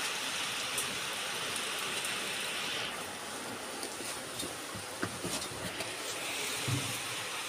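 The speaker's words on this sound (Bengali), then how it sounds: "আজকে যেন তো যাচ্ছে তাই রকমভাবে বৃষ্টি।" Heavy rain pours steadily as a dense, even hiss of drops on surfaces, fairly faint and constant throughout, with a few small knocks and a low rumble near the end.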